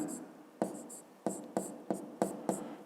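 Pen writing by hand on paper while working a physics problem, heard as a run of short scratchy strokes with brief pauses between them, close and fairly quiet, with no talk over it.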